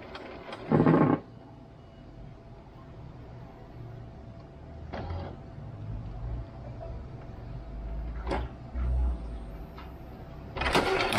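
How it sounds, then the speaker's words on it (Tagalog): Mechanical whirring and intermittent carriage sweeps of an Epson L121 inkjet printer at work, with short bursts of motor noise separated by quieter pauses. "nagpiprint na ulit yung printer natin"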